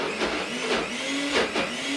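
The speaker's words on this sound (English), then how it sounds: "Pop this back on the blender and let's open it." A kitchen blender runs steadily while a chef makes tree-themed snacks, giving a loud, continuous whirring roar with a low hum beneath it and slight surges in intensity.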